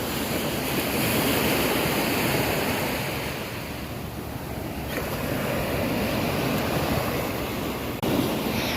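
Surf rolling onto a beach at sunrise, a continuous loud wash of waves with gusts of wind buffeting the microphone, swelling and easing over several seconds with no voices.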